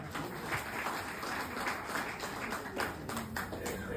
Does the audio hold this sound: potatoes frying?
no